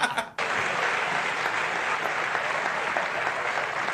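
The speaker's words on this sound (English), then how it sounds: "They're applauding the uncomfortable silence." Talk show studio audience breaking into sustained, even applause after a brief sharp sound at the start, dense clapping held at a steady level to the end.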